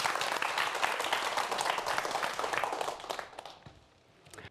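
A studio audience applauds to welcome a lecture on volcanoes, a dense, lively clapping that fills most of the clip and then thins and fades toward the end.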